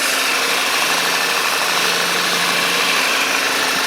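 A VW Golf MK6 GTI fitted with an EA888 TSI engine idles steadily, a smooth, even hum with a constant low throb and no talking.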